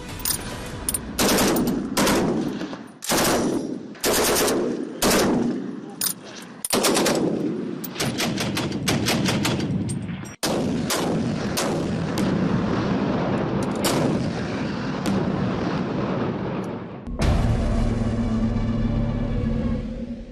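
Indian Army firepower on display at the Tawang border sector in high mountains: loud bursts of machine-gun and artillery fire, repeated sharp blasts with echoing rumble, continuous heavy firing toward the end.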